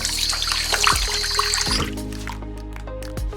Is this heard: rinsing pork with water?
yes